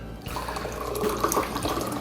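Hot water poured into a glass for a hot toddy with ginger syrup and lemon, a steady close-up stream of liquid filling the glass for about two seconds.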